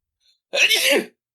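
A single short sneeze, loud and close, bursting out of silence and lasting about half a second.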